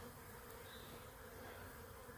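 Honey bees swarming during a hive removal as they are scooped and dumped into a box, a dense, continuous buzzing drone filling the air close by without pause or talk.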